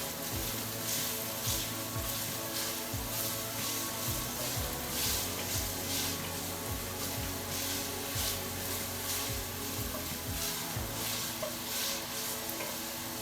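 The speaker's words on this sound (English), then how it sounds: "So the garlic, finely chopped. I'm going to give it a stir." Finely chopped garlic sizzles in a pan as it is stirred for a vegetable quinoa dish, giving a steady frying hiss with soft scraping strokes and no talking.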